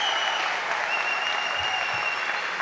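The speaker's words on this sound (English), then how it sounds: "Let's all give them a round of applause as we start this ceremony." Sustained audience applause fills a graduation ceremony hall, a dense, steady wash of many hands clapping at even loudness throughout, with no speech over it.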